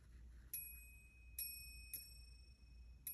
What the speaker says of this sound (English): maybe pause for a moment with that bell